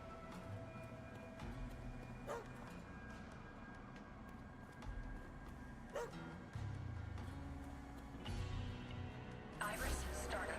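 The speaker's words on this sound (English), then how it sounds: "I don't know how to catch the dog." Dog barking and yipping in the video game Astral Chain, small repeated barks and whimpers over game music and ambience, moderately quiet within the mix.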